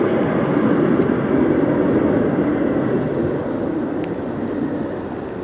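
An Airbus narrow-body jet with CFM engines roars at Detroit airport in a broad, continuous rush that is loud at first and slowly fades a little, heard alone without talking.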